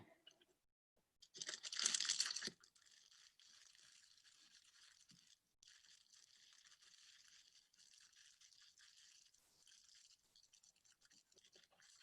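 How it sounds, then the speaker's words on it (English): Tissue paper is rolled up by hand at a craft session, producing a short, louder burst of crinkling followed by long, faint, steady rustling and scratching. The rustling stops briefly partway through. "If you're using tissue paper, I'm going to roll it up."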